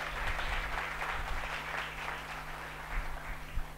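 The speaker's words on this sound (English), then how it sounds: "Can we have a round of applause?" Audience applause from parents at a school felicitation ceremony, a steady wash of many hands clapping at moderate distance, continuous for a few seconds without speech.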